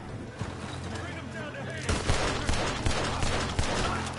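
Heavy gunfire in Red Dead Redemption 2, a dense burst of repeated shots that grows louder after a quieter, rumbling start, with voices talking over it.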